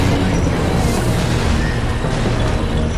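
Rocket launcher fire explodes in the Faces of War video game, a dense continuous roar of blasts and rumbling that stays loud and close throughout.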